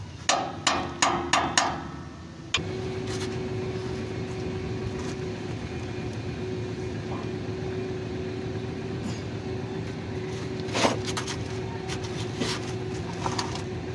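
Several sharp metallic hammer strikes in quick succession at the start, then a steady machine drone with occasional clanks later on, during DIY work on a trailer torque rod bushing.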